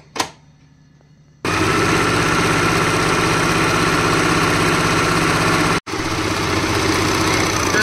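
Usha Janome Stitch Magic sewing machine stitching, first a brief click, then a loud, steady close-up motor whir with rapid needle chatter that briefly cuts out and restarts.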